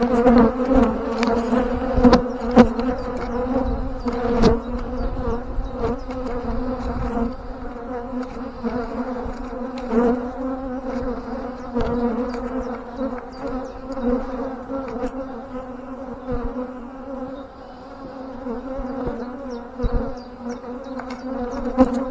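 A steady, dense drone of honey bees buzzing around an open beehive during swarm season, a continuous close hum that holds throughout with occasional light knocks and no speech.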